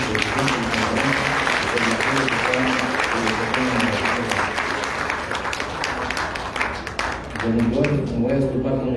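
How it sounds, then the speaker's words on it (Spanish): A conference audience gives doctor Liborio, president of the conference, a big round of applause: steady, crowded clapping throughout, with a speaking voice running beneath it and coming forward near the end. "les pidamos con un gran aplauso al doctor Liborio"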